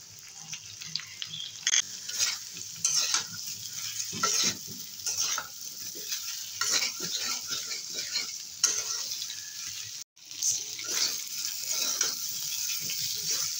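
Taro and tilapia spices sauté in a pan with a continuous sizzle close by, broken by repeated scraping and stirring strokes and one brief pause.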